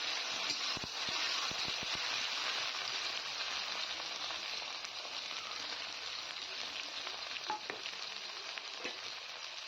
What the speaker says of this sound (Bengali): তো টমেটো আর পেঁয়াজটা অনেকটা ভাজা হয়ে গেছে